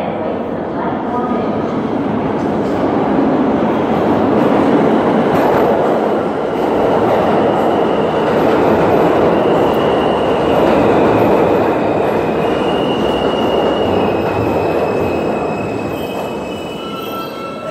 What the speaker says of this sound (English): the next L train is now arriving on the Rockaway Parkway bound track